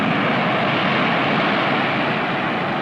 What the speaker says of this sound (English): Oh, look, there goes a jet.